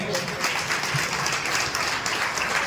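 Audience applause at a dhol-tasha troupe's instrument-worship ceremony in Pune, a steady crowd clapping that keeps going for the whole clip with an even loudness and no clear pauses.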